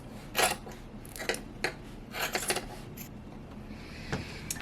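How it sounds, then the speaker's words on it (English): Scissors trim the seam allowance on the sewn side edges of a quilted fabric shoulder bag, making several short, soft snips and crunches in an irregular sequence, close by and quiet. "we are going to trim that seam allowance down"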